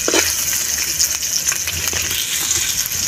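Water pours steadily into a hot cooking pan with a loud, continuous rushing gush and sizzle that lasts throughout, close and with no voices.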